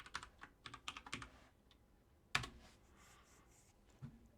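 Quick bursts of keystrokes on a computer keyboard while typing brackets and quotes in the Eclipse code editor, with a flurry of clicks up front, a pause, one sharp louder key hit, then a last soft tap, quiet and close.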